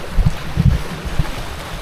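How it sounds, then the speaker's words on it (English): A Hobie Cat 16 catamaran sails on the open ocean while surfing waves; low rumbling wash and thumps of water against the hulls come in irregular pulses, close up, with wind noise and no talking. "Now the waves got bigger and it's really cool because I can surf them"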